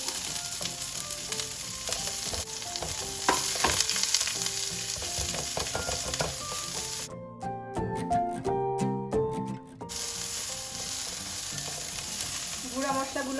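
Chopped onion and garlic fry in a pan with a steady, crackling sizzle that carries on for several seconds, broken by scraping stir clicks and a brief quieter stretch partway through.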